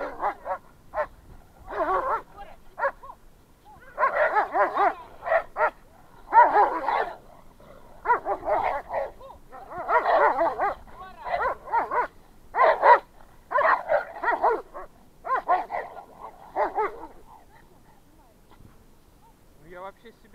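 A Staffordshire terrier and a shepherd dog fight outdoors, with bursts of loud, snarling barks and yips in repeated clusters and short gaps between them.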